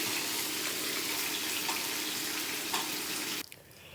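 Pork frying in hot oil in a pan, a steady broadband sizzle and crackle that runs loud and even for about three and a half seconds before cutting off abruptly, leaving a quieter room tone.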